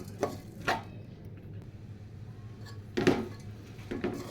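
Rice and vegetables for veg masala pulao are stirred in a pot, with a few sharp utensil clinks and scrapes spaced irregularly over a quiet kitchen background.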